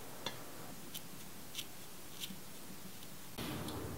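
Kitchen scissors snip lime leaves in a few brief, crisp cuts spaced about a second apart, quiet and close against faint room noise, with a louder rustle near the end.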